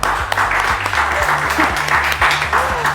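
An audience claps at a casting event held for people with disabilities, with dense, steady applause that carries on evenly for several seconds.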